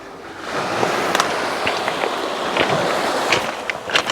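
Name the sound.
footsteps walking on beach pebbles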